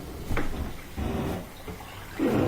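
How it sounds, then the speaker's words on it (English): Water sprays and sloshes inside a dishwasher during its circulation cycle, in uneven surges that swell and fade, heard close with no voices. "Water shooting around."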